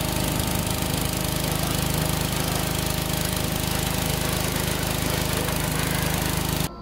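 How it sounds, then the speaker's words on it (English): A gas-engine pressure washer blasts salt residue off a snow blower, a loud, continuous engine drone mixed with the hissing spray, running steadily until it cuts off abruptly at the end. "I always use a pressure washer."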